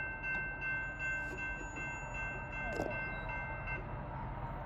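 A Norfolk Southern manifest freight train rolls past trackside with a steady, continuous rumble and faint rail noise, heard at a moderate distance with no distinct horn blast.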